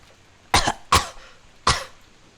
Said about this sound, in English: Eva suddenly started coughing.